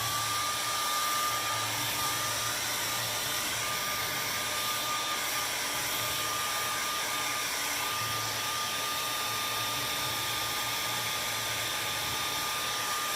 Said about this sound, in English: give it a quick hit with the blow dryer